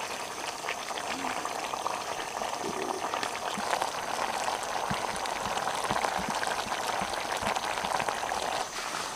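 A sweet, sour and spicy chicken heart stir-fry simmers in a pan as its liquid reduces, giving a dense, continuous bubbling sizzle that stays loud and close throughout.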